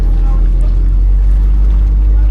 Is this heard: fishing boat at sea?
yes